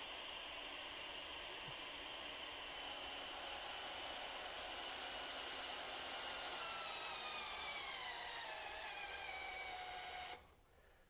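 A HYTORC Lithium II battery torque gun rated to 3000 ft-lbs runs steadily on a nut for about ten seconds, a loud, close, continuous whine with a slowly shifting pitch that cuts off abruptly near the end.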